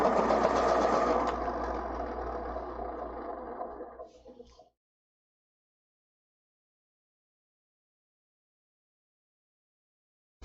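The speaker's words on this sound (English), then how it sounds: "I'm going to grab my stick, sharpen it a little bit here" A drawing stick being sharpened, a steady buzzing scrape for about four seconds that tapers off and stops, then silence.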